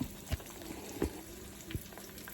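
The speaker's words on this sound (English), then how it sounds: "I'm just frying the egg this morning" Quiet, steady sizzling of an egg frying in a pan, with a few soft pops and taps standing out.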